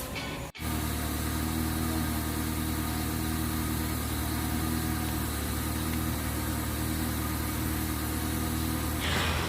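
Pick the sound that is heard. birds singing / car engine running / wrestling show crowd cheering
car engine running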